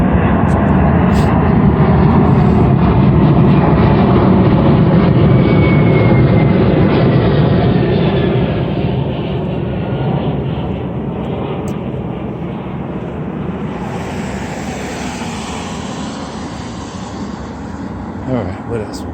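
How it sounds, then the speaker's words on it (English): Jet aircraft passing high overhead on a foggy day, unseen, heard outdoors far from an airport as a loud, steady broadband roar that slowly fades over the clip, with a voice audible underneath. "Can't even see the jets up there."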